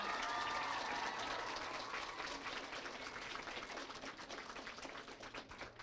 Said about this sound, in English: give them another round of applause, you guys.